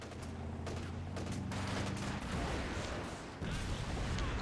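An MG34 machine gun fires in the Company of Heroes 2 strategy game, with rapid bursts mixed into a faint, dense battle din of distant shots and explosions.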